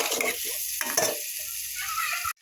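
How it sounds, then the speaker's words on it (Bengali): Potatoes are sautéed with spice paste in a hot pan, giving a steady loud sizzle with scraping stir strokes and a clatter at the end. "মশলার সঙ্গে আলুটাকে সুন্দরভাবে কষাবো।"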